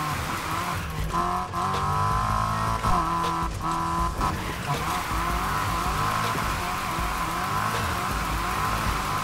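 A Nissan Silvia S15 with a 5-speed drifts in the Need For Speed Heat racing game, engine revving and shifting through gears under constant tire squeal, loud and steady throughout.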